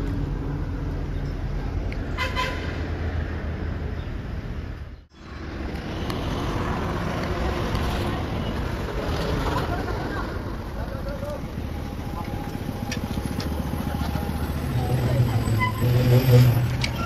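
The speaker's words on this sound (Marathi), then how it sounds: "या सगळ्या गाड्या ह्या अमरनाथला चाललेल्या आहेत" A convoy of vehicles with a military escort drives along the road to Amarnath. There is a continuous engine and road rumble with wind buffeting the microphone, a brief dip, then a rising pass near the end, and some talking over it.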